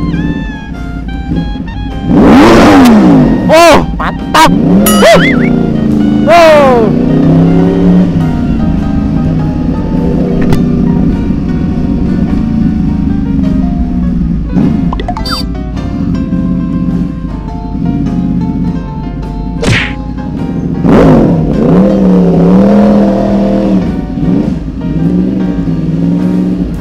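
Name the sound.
Yamaha R1 motorcycle engine revving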